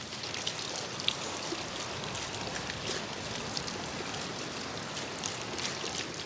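Water from a garden rock pond feature runs steadily, a continuous splashing trickle with light droplet patter, moderately close and with no voices.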